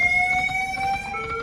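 Electronic fire alarm sounding with a steady high-pitched tonal wail, continuous and moderately loud through the short stretch.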